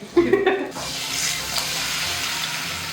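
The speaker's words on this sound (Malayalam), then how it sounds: "നമുക്ക് ഈ പഴം പൊരിക്കാൻ വെക്കാം ഗൈസ്." Stuffed plantain sizzles steadily in hot oil in a pan, a continuous close hiss after a brief clatter and knock of kitchenware at the start.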